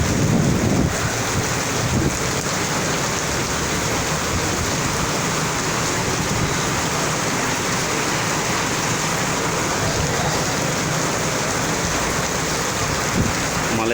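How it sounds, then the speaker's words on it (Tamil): Heavy rain pours down in Malaysia, a steady, dense, loud hiss of water that goes on without a break and covers everything, with some rough wind-like rumble underneath and no voices. "மலேசியாவில் அதிகமான இடங்களில் இன்று மழை பொழிந்து கொண்டிருக்கின்றது."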